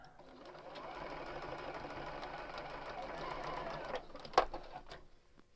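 A sewing machine runs steadily for about four seconds, stitching quilt star block pieces, then stops with a brief clunk and a softer handling noise.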